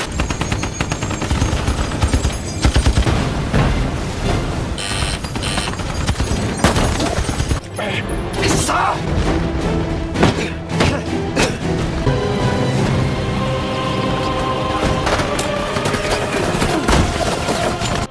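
Dense war-film gunfire as soldiers defending a bunker shoot at the enemy: rapid machine-gun bursts and rifle shots with heavy thuds and booms, loud and continuous throughout.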